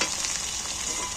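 Chopped onion and green chillies fry in hot oil in a pan for a Bengali village-style chicken curry, giving a continuous dense close sizzle with no voices.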